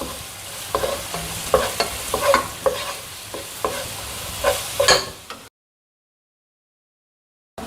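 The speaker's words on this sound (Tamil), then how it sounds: "இப்போ நான் இஞ்சி பூண்டு பேஸ்ட் சேர்க்குறேங்க. பச்சை வாசனை போகிற வரைக்கும் நம்ம வதக்கிக்கலாம்." Ginger garlic paste sautéing in a pan for a spicy potato gravy: steady sizzle and frying hiss with repeated stirring scrapes, close and moderately loud, then a drop to silence near the end.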